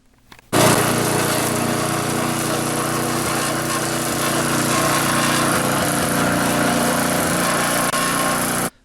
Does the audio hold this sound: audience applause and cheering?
no